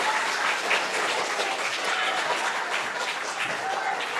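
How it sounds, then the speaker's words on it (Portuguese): An audience at a book launch claps warmly for the arriving authors, a dense, even wash of applause sustained throughout without pause. "Eu quero que vocês possam recebê-los com uma salva de palmas, bem forte."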